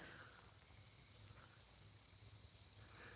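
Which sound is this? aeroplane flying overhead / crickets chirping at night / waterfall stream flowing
crickets chirping at night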